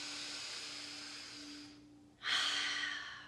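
A person takes a slow, deep breath during a guided meditation, a soft steady airy inhale followed by a short pause and then a louder, rushing exhale, close and alone in a quiet room.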